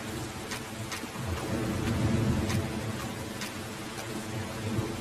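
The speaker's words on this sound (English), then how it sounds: "This is a really aggressive thunderstorm." A heavy thunderstorm inside the video game No One Lives under the Lighthouse: steady, dense rainfall with low rolling thunder swelling underneath, loud and continuous with no speech.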